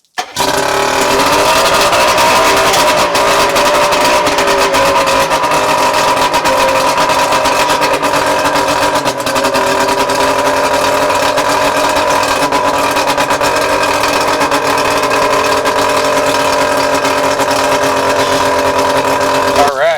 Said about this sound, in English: Just got to adjust the idle. It's idling a little high.